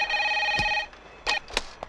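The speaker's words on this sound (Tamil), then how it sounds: "ஃபோன்." A telephone rings in a Tamil comedy film scene, a steady electronic bell trill for most of a second, then several short bright bursts follow, fairly close and clear with no talk over it.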